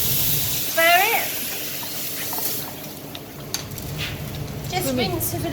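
Paprika-seasoned food stirred in a hot sizzling pan in a cooking-school kitchen: a soft frying hiss with scraping utensil sounds, under intermittent talking.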